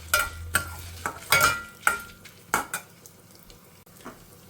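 Urad dal dry-roasting in a pan, heard as a series of distinct scraping and clattering stirs, roughly one every half second, over a faint background sizzle, close and without talk.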